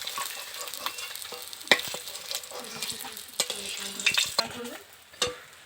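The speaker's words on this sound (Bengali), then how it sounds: "সব মাছগুলোকে খুব ভালো করে ভেজে নিয়েছি," Rohu fish pieces frying in hot oil, with a steady sizzle broken by sharp scraping and clinks of a utensil turning the pieces in the pan, close and free of speech.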